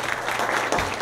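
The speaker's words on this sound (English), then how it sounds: "So big round of applause to my mother." Applause from a gathered audience at a memorial event, a short continuous burst of many hands clapping at moderate loudness with no voices over it.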